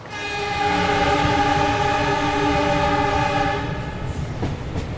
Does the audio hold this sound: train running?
yes